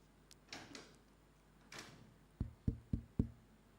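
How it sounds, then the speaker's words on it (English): A front door is pushed shut in a lecture hall, giving four sharp knocking thuds in a quick row after some earlier faint shuffling. "You can close this front door so people can come back."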